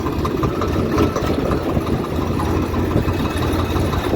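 A tractor engine idling on a farm beside a wheat field, a steady loud low rumble with a regular throbbing pulse, close by and without speech.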